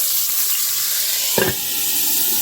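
A steady hiss of steam and sizzling as water is added to a hot pan with an Impossible Burger patty and cheese, a brief louder burst midway as water hits the surface, then a constant hiss.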